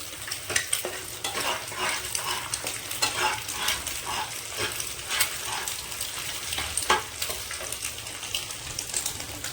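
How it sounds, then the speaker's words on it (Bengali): Four beaten eggs scramble in hot refined white oil, a continuous close sizzle and crackle under repeated stirring strokes that scrape and push through the pan at an even rhythm. "ডিমগুলোকে ভালো করে ঝুরি ভাজা করে নেব।"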